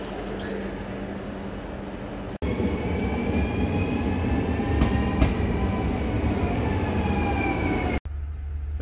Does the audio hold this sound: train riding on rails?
yes